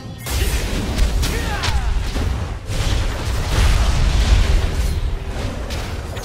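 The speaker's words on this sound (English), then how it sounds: "Your turret has been destroyed." A turret destroyed in League of Legends gives a deep, rumbling explosion with crackling debris, set in a busy, noisy stretch of game audio.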